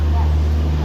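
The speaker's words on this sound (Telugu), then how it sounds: "వెనకాల ఇంజన్ తగిలిచ్చినారు ఓన్ సౌండ్ అయితే వస్తుంది" A heavy train locomotive engine, coupled at the rear of a Secunderabad to Tirupati train, drones steadily at close range, a deep continuous rumble with a constant low hum that holds unchanged throughout.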